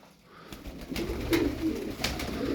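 Pigeons kept as fancy play birds coo softly nearby, low throaty calls rising over a light background rustle.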